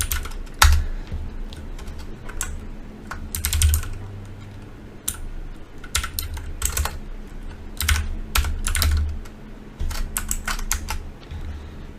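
Someone types a command on a computer keyboard, rapid uneven key clicks with short pauses between bursts, close and clear with no voice over it.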